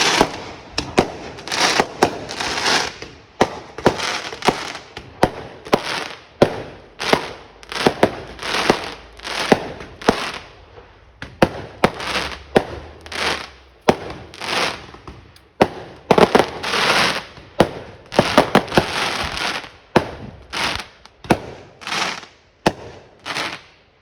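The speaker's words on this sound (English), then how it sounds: "I'm waiting for another firework." Fireworks bursting right above a residential cul-de-sac during Halloween half term: a rapid, irregular series of loud cracks and crackling pops, some clustered like firecracker strings, continuing throughout with faint background between bursts.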